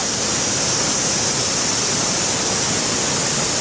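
A waterfall in West Sumbawa roars as a loud, dense, unbroken rush of falling water filling the whole short stretch, close by and with no voices.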